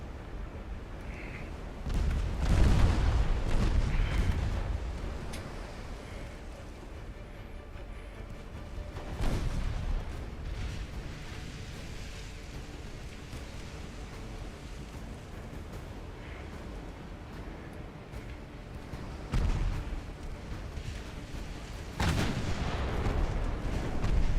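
Warship guns fire in a naval battle game, deep booming salvos with long rumbling tails, a heavy cluster early on and further loud blasts spaced through the stretch over a constant low background roar.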